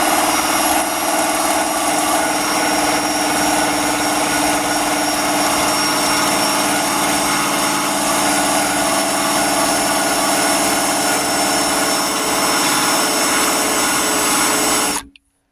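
A power drill run continuously at high speed while sanding and priming, a steady, loud whine holding for about fifteen seconds before cutting off abruptly.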